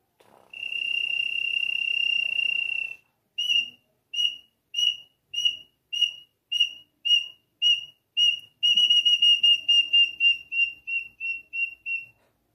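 A red-legged tinamou call whistle gives a high, thin sound, first as one long tone, then in a steady series of short repeated chirps, clear and fairly close with no talking.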